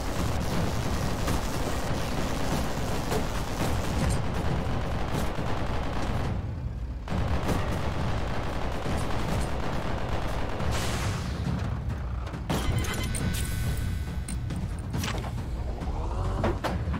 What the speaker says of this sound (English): What's annoying is not all my machine guns shooting,